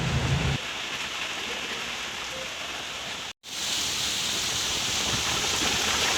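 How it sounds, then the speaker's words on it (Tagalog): Heavy rain in the Philippines pours steadily in a dense, hissing roar, with a brief break partway through before the downpour resumes just as strong. "mas lalong lumalakas ang ulan ngayon"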